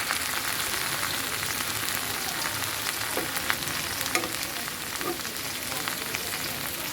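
Okra (ladies' finger) fries in a pan with a continuous dense sizzle, punctuated by a few faint scraping stir sounds.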